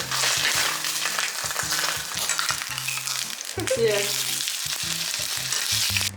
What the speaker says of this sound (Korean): 서비스로 받은 비계를 먼저 넣어보겠습니다. 음. 지글지글.